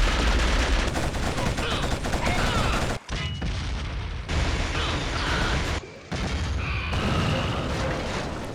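Dense, loud gunfire from weapons in the PS2 shooter Killzone, a futuristic war with a World War II look. Rapid bursts and booms fill the whole stretch, with two brief dips near the middle and no voices.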